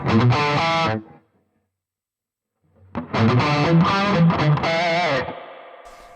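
Two bursts of distorted electric guitar chords played through a BOSS ME-90 multi-effects unit ring out with a spacious reverb tail, separated by a short silence, loud and close.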